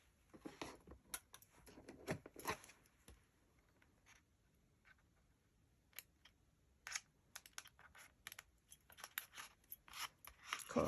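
Scissors snip away excess glue on a comb for a Christmas hat headband, giving sparse, sharp close clicks and cuts in short bursts separated by near silence.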